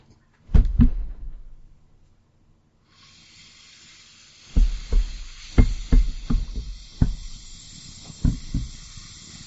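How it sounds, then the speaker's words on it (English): Glass bong repeatedly knocking against a microphone in a podcast setting, sharp close thumps: two early bumps, then a cluster of several uneven knocks over a steady hiss. "You kept knocking the bong into the microphone."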